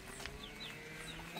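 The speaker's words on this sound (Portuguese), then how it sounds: "parece que até as galinhas já esperam" Hens clucking softly on a farm as they wait to be fed, faint and distant with scattered short calls over a low steady background.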